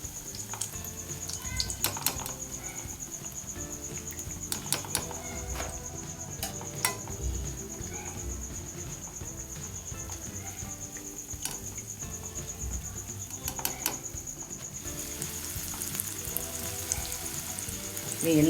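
Bread slices frying in smoking-hot oil for shahi tukda, giving a steady crackle of small pops and spits that carries on for the whole stretch with no one talking.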